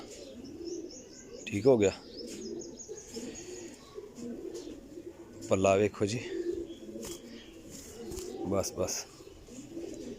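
Cross-bred Teddy and Imamdin Golden pigeons cooing in low repeated rolls, close by, broken by three sharp bursts of fluttering or handling noise while someone talks briefly.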